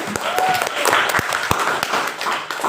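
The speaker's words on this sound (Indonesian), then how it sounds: "Oke, beri aplaus untuk kelompok 6." Audience applause for group 6 at a classroom session, a crowd of hands clapping steadily at close range with a few sharper individual claps, while voices murmur underneath.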